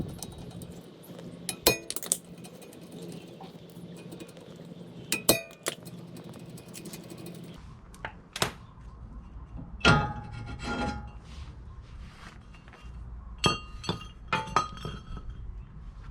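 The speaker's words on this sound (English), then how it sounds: "So I'm going to be removing this axle nut. Removing these 2 screws." Axle nut and two screws being removed during front-end work before taking off an outer tie rod: scattered sharp metallic clinks and taps of tools and fasteners, some close and loud, separated by quieter stretches of shuffling handling noise.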